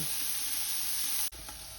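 Meat sizzles in a hot, greasy pan while being stirred, a steady close hiss broken by one brief clack near the end.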